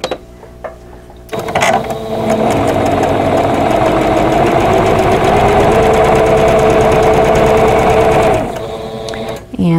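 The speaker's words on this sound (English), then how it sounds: "and then go ahead and sew." Sewing machine stitching a vintage quilt block, a steady rapid mechanical whirr running for several seconds after a click, then stopping, close and clear.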